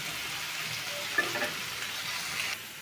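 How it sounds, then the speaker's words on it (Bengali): Eggs frying in oil with turmeric, giving a steady, close sizzle that runs without a break, with no talking. "আরেক চুলার মধ্যে ডিমগুলো আমি বেজে নিচ্ছি একটু হলুদ দিয়ে"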